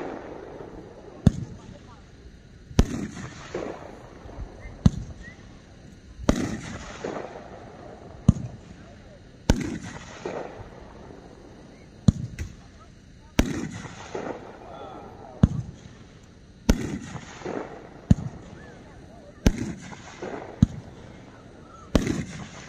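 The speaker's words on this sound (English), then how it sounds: "Number 77 is the new one from Cairo Pack. 10 shot power series machine." A Cairo Pack 10-shot power series firework cake fires outdoors, each shot a sharp launch followed by a crackling burst, about a dozen evenly spaced loud booms echoing at mid distance, with voices faint in the background.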